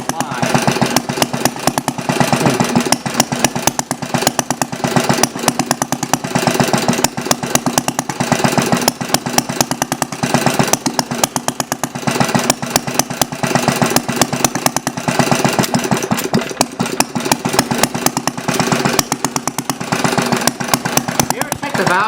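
A Briggs engine fitted with a glass cylinder head runs and idles, a loud, rapid, uneven chugging with steady firing pulses and occasional stumbles, with people talking over it.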